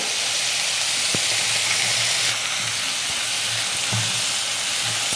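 Crushed shallots and coconut pieces frying in hot oil in a pan, producing a steady, dense sizzle and hiss that stays loud and close throughout, with a few faint knocks underneath.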